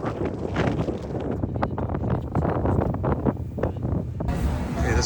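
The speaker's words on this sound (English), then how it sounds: "This is obviously the windy side as we come into Skye." Strong wind buffets the microphone on the exposed side of a boat coming into Skye, a rough, gusty roar with low rumbling and water noise that continues without speech.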